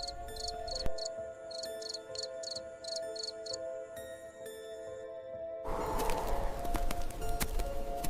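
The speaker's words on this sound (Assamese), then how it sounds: "পোকৰ আকৌ টুক টুক আৱাজ," Insects chirp in a forest at night in steady, rhythmic pulsed trills over a faint hum, until a louder rush of broadband noise covers them near the end.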